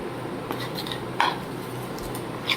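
A spoon mixes a hair paste in a bowl, giving a few scattered clinks and one sharper tap against the bowl over a quiet room hush, with no speech.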